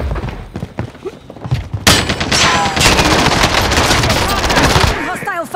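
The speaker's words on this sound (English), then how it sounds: "Hostile fire." Rapid automatic gunfire bursts and shots in Warzone on Rebirth Island, loud and close, continuous volleys dominating the second half with brief game voice lines between.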